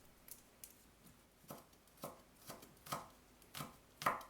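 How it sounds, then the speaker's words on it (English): A knife mincing garlic cloves on a cutting board, about a dozen crisp chops in a loose rhythm that grow louder toward the end, close and alone. "Mince 2 cloves of garlic."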